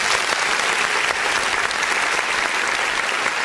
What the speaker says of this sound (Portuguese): Vamos dar uma salva de palmas bem forte para Jesus.